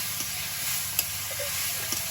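Potatoes sizzle steadily in a hot pan, a continuous close hiss with a couple of faint taps, and no talking.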